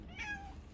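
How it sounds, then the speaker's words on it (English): A house cat gives a single short meow, close but soft, in a quiet kitchen. "Look at my kitty."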